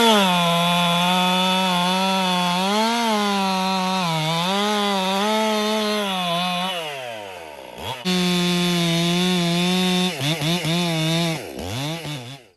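Ported 261 chainsaw screaming at high revs, held close and loud, then dropping to a low burble before several sharp throttle blips and a final cut-off.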